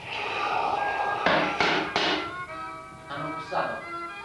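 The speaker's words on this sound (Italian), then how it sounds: "Hanno bussato?" Several sharp knocks land on a door in a clustered rhythm, a few close together and then a softer pair, heard fairly near in an indoor scene.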